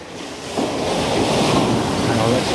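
Steady wash of coastal seawater swirling and lapping around a rock, close by, with a broadband rushing texture that swells slightly after the first half second and holds.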